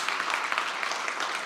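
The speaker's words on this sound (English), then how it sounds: "can we have a round of applause for the whole team who's supported us throughout?" Audience applause at an event's second-day opening session, a steady dense wash of clapping throughout without any voices.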